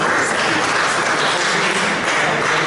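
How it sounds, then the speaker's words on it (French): Sustained applause from an audience at a public meeting fills the whole stretch, a loud, dense and even patter of many clapping hands with no pauses. "sous les applaudissements du public"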